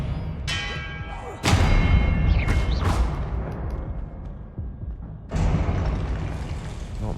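An Expelliarmus spell is cast during a Hogwarts Legacy duel, with sharp magical bursts, heavy thuds and ringing, bell-like booms in quick succession and a brief lull before another burst.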